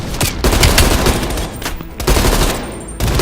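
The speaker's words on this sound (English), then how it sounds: "Heavy MG on the ridge" Heavy machine gun fire in the Call of Duty: Black Ops Cold War video game, loud dense bursts of rapid shots with brief pauses between volleys, close and booming, no speech.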